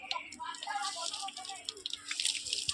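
Water spraying from a garden hose pipe during summer play against a wall, a close, steady hissing splash with bright spatter, while voices chatter over it.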